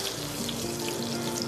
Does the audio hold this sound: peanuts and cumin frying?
yes